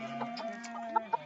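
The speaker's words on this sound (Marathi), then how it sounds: "आता कोंबड्या पण खरोडी शोधायला लागल्या त्यांची घर" Hens in a rural farmyard cluck softly and close by, a few low murmuring calls ending in two short sharper clucks, with no one talking.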